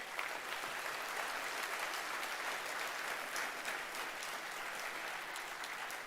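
Steady, dense applause from a large audience at a bank employees' association conference in Mumbai, sustained at an even level throughout without any voices.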